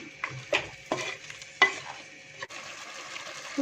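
Pepper chicken masala being mixed in a pan makes several distinct scraping strokes of a spoon with a low simmering bubble between them, close and fairly quiet.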